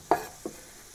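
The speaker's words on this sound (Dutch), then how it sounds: "Even die groente fruiten." Vegetables sizzle in a hot pan for a tomato sauce, with two quick scraping stirs, one loud and one softer, over a faint background frying hiss.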